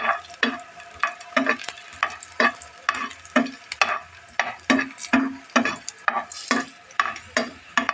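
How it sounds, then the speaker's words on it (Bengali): Garlic frying in mustard oil, with repeated stirring scrapes about every half second over a steady close sizzle, loud and rhythmic, with no voices. "হয়ে গেছে রসুনটা ভাজা"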